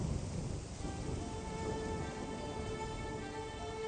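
Rain falls steadily in a broad, even hiss at moderate distance and stays constant throughout, with no voices over it.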